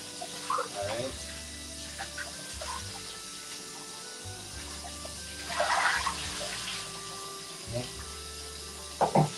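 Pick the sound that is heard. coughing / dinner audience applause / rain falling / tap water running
tap water running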